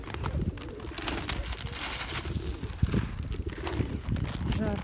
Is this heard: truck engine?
no